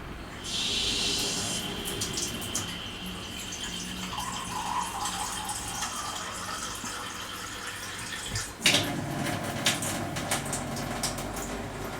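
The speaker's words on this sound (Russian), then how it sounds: "Один мы наполняем обычной водой" Tap water pours steadily into a glass from a faucet fitted with an Amway eSpring filter, a continuous hissing splash that shifts in tone partway through, with no talking.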